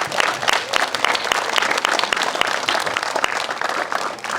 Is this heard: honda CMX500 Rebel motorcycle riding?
no